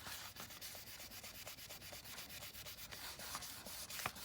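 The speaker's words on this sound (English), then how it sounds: "I'm going to take my fingers and go in a circular motion lightly over my clay" Fingertips rub copy paper in small circles over polymer clay, making a steady, soft, close scratchy swish with quick repeated strokes and no speech.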